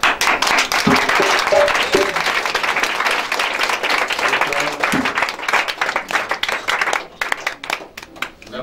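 Congregation at a prayer service applauding, sustained loud clapping from many hands with a few voices mixed in, thinning slightly near the end.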